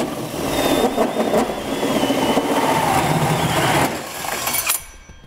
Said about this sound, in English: I use my hole saw and cut a 4-inch hole in it